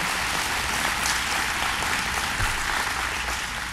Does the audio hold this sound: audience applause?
yes